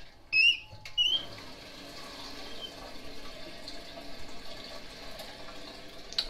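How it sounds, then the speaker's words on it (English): An American Standard Cadet 3 dual-flush toilet tank refills after its water supply is turned back on. After a couple of brief squeaks, a steady hissing rush of water runs on, moderately loud and close, with no talking. "Now we'll wait for the tank to fill back up."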